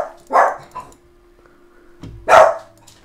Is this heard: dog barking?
yes